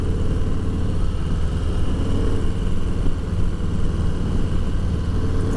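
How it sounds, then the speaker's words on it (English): Stock exhaust of a 2020 Harley-Davidson Deluxe motorcycle while riding, a steady, throaty low drone with road and wind rush, loud and continuous throughout with no talking. "The stock exhaust sounds throatier than in years past."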